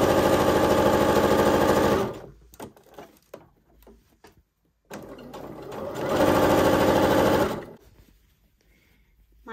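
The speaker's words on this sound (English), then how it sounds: "I'm gonna grab my scrap, start sewing, and see if the shirring is working." A sewing machine stitches shirring on a scrap of fabric with a steady, rapid mechanical whir in two long runs, separated by quiet handling clicks and rustles.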